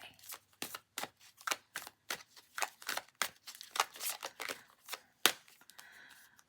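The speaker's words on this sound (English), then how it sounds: "One more shuffle. These are noisy." Rapid bursts of playing cards being riffled and shuffled, repeated many times in quick succession, close and crisp, with a brief quieter rustle at the end.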